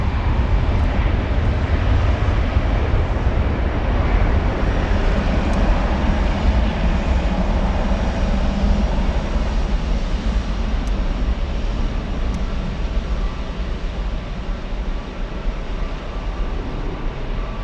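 Aircraft at Frankfurt airport, including a Boeing 747, give off a constant broad jet-engine roar that stays loud and steady throughout, with no talk over it.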